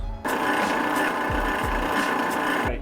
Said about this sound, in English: so now I'm going to go through and drill the pinholes